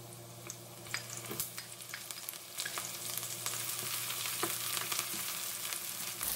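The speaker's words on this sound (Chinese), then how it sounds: "油热后放入葱姜蒜炒香" Scallion, ginger and garlic stir-fry in hot oil in a wok, a soft continuous sizzle with light stirring clicks under a low steady hum, fairly quiet and without speech.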